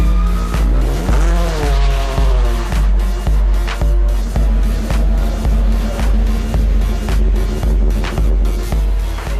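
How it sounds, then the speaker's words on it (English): Several race car engines rev hard and repeatedly nearby in pit lane for a crowd, loud throaty bursts stacking on a steady rhythmic idle throb. "all of the cars were brought into pit lane and revved up for the crowd"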